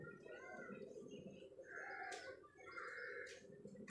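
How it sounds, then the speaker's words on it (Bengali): Pigeons released from a loft around midday, with soft cooing and bird calls plus a couple of brief bursts of wing flutter or rustle over a steady background murmur. "এখন পায়রা উড়িয়েছি"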